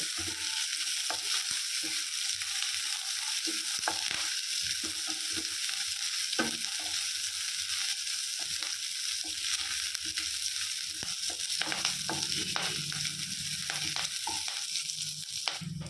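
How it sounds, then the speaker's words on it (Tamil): Green chillies, large onions and curry leaves sautéed over a low flame in a pan: a steady close sizzle with repeated scraping stirs at an irregular rhythm, and no voices. "2 பச்சை மிளகாய், 2 பெரிய வெங்காயம், 2 கொத்து கருவேப்பிலை சேர்த்துக்கலாம். இதை நல்லா வதக்கிக்கலாம்."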